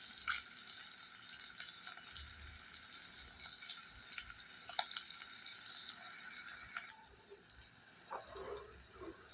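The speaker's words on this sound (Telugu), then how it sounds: "ఇప్పుడైతే ఉల్లిపాయ వేగిపోయిందండి" Onion frying in a pan for an eggplant, egg and dried-shrimp curry, giving a continuous bright sizzle that holds steady and then drops slightly quieter near the end.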